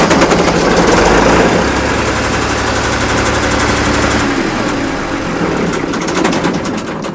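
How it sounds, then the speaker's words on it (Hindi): A self-starting generator runs at a free-range turkey farm in Faisalabad, a loud steady engine drone with rapid knocking pulses and a deep low hum, shifting slightly in pitch partway through, no talk. "अगर बिजली बंद हो जाए तो वो जनरेटर पड़े हैं, स्टार्ट भी कर दें"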